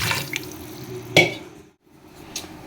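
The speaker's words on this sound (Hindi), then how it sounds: "पानी ऐड कर लेंगे।" Water poured into a pot for mutton paya stock (yakhni) in a home kitchen, a short splashing pour near the mic that rises, cuts off briefly, then resumes with a small trickle.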